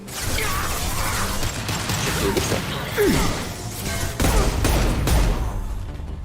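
Gunfire in Mass Effect 2 Legendary Edition during a squad firefight, a loud, dense stretch of shots and impacts with crashing debris and a voice call-out, running continuously throughout.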